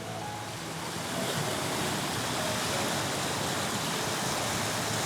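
Strong current of floodwater rushing past in a steady, loud broadband roar that swells slightly after the first second and holds without a break; no speech.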